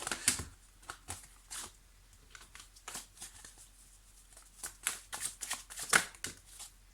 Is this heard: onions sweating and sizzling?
no